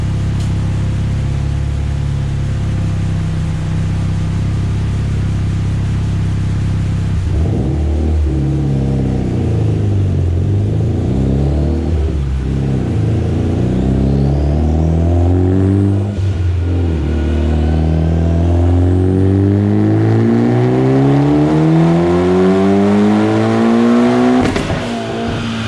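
Mitsubishi Evo X with a stock motor, 3576 turbo and flex fuel, revving hard on a dyno: a loud sustained engine drone climbs steadily in pitch through repeated pulls, with brief gear-change dips, no talking.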